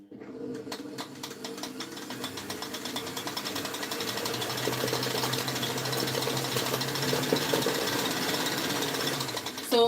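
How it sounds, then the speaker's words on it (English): Electric mixer whisking French buttercream batter, a steady continuous mechanical whir with a rattling drone that holds at a fairly loud level for the full stretch, no talk over it. "we need it to whisk completely till the batter kind of changes form and gets lighter"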